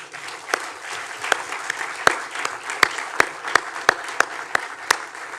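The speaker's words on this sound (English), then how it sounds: "So I would really give a round of applause to the master's student." A small audience at an academic closing session gives sparse, scattered applause, with individual sharp claps standing out clearly over a quiet room.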